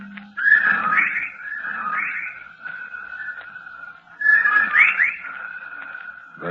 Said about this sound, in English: Listen, they whistle in time with his breathing now.